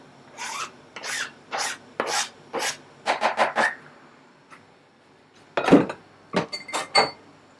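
Penne carbonara sauce and chopped parsley being mixed in a pan, heard as a series of scraping, rasping strokes in uneven bursts, close and fairly loud, with short pauses between strokes and no talking.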